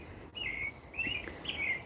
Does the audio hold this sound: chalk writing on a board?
no